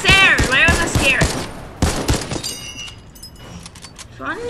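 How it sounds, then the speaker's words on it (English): Gunfire in the video game Fortnite crackles in rapid bursts beneath excited, overlapping talk, with the shots packed mostly into the first half of the moment. "We're getting shot from different positions."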